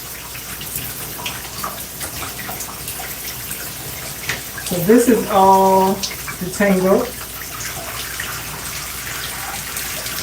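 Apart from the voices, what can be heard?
water running during hair wash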